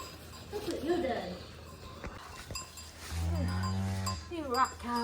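Cows and calves on a farm where a cow named Lana has just given birth, with low moos and bellows close by, mixed with people talking excitedly in a busy barn.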